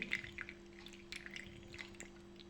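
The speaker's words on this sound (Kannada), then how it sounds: "ಈ ಥರ ನಿಧಾನವಾಗಿ ನೀರನ್ನು ಹಾಕ್ತಾ ಬಂದರೆ ನೀರಲ್ಲಿ ಮುಳುಗುವ ರಂಗೋಲಿ" Water trickled slowly by hand onto a rangoli design floating in water, giving soft, scattered drips and small splashes over a quiet background hum.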